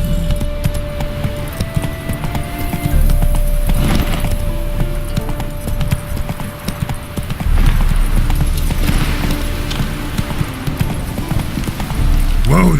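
Roach, Geralt's horse in The Witcher 3: Hearts of Stone, gallops with rhythmic, fast clip-clopping hooves and jangling tack throughout, loud and close, with occasional heavier hoofbeat surges over ambient game sound.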